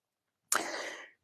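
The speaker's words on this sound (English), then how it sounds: "I got to sneeze, so excuse me" A single sharp sneeze, close and fairly loud, bursting out abruptly and trailing off after about half a second, with silence around it.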